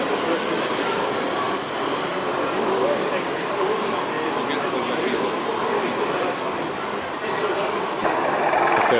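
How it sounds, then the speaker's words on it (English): A little branch line model railway train runs at a model railway exhibition, giving a steady rolling rumble with squealing wheels and faint clatter, heard up close over a constant murmur of hall chatter. "There's a little branch line train with the"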